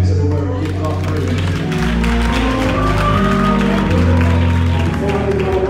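A church congregation claps hands in praise, a dense, steady wash of applause mixed with organ or keyboard music and voices throughout.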